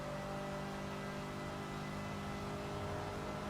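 A retro Toyota car engine drones steadily while driving in the racing video game Forza Horizon 4, a constant mid-pitched hum with faint whine, no voices heard.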